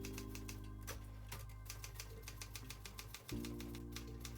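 Olympia SG3 manual typewriter sitting on an anti-slip silicone pad, with a steady run of sharp, close key strikes, then a heavy carriage throw near the end followed by more typing.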